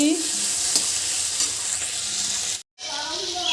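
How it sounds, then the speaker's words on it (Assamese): Okra and potato fry in a pan with a close, steady sizzle and occasional stirring scrapes, briefly cutting out before the sizzle resumes. "ভেন্দি আলু ভাজি,"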